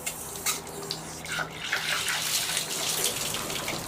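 Water pouring and draining out of a pump setup before a Shimizu water pump test, a continuous loud rushing gush with no speech.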